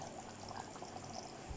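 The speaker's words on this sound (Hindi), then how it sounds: "बहुत ज़्यादा एक बड़े से बर्तन में पानी लेकर बहुत ज़्यादा अच्छे से धोएं इसको।" Water pours steadily into a large vessel for washing while cooking aloo gosht methi shurba, a soft, continuous splashing heard close and fairly quiet.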